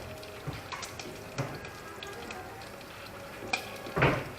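Eggs scrambling in a frying pan, a steady close sizzle with occasional scraping stirs of a utensil across the pan.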